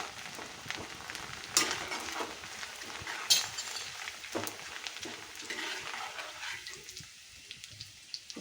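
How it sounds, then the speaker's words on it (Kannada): Flattened rice (poha) frying in hot ghee for avalakki laddu gives a steady, close, crackling sizzle with scattered sharper pops, easing slightly toward the end, with no voices. "ತುಪ್ಪ ಕಾದಿದೆ, ಇದಕ್ಕೀಗ ಅವಲಕ್ಕಿ ಹಾಕ್ಕೊಳ್ತೀನಿ."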